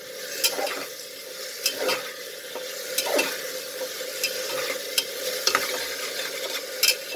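A spoon stirs moong dal chicken masala with ginger and garlic paste in a frying pan, giving repeated scraping strokes over a low, steady sizzle, close by and with no talking.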